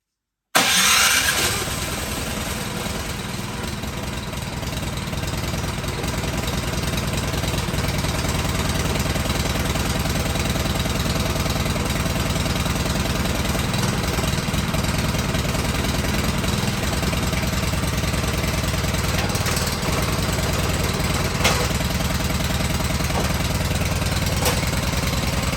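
A Craftsman snowblower engine cranks and catches, then runs steadily at a loud, constant idle with a continuous mid-low drone that holds for the rest of the stretch, with no talking.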